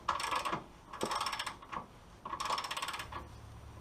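A 21mm socket wrench works a control arm bolt loose on an L322 Range Rover suspension, giving bursts of close, rapid metallic ratcheting clicks separated by short pauses.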